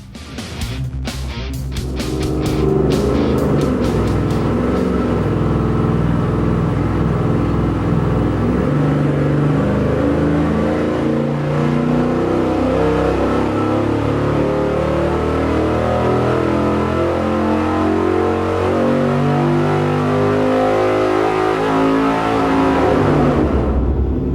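A 360 Chevy V8 engine with a Weiand Air Strike intake manifold roars on a dyno at sustained high revs for over twenty seconds, loud and steady with slight rises in pitch, no voices.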